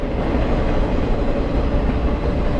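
A freight train rolls past on a Canadian National rail line, a steady, loud rumble of wheels and cars close by, with distributed power locomotives in the consist.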